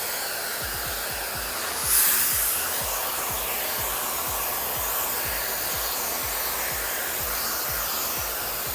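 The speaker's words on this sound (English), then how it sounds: "if I had this blow dryer here" A hair dryer blows steadily and loudly close by, a constant airy whoosh with a faint rhythmic flutter underneath, no voices.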